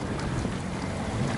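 Motorboat out on the open sea, a steady roar of engine, rushing water and wind buffeting the microphone, continuous and close with no voices.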